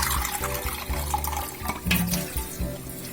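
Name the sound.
water running while rinsing rice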